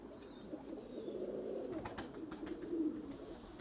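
Domestic pigeons at a home loft coo in soft, rolling murmurs, fairly faint and steady with no talking over them.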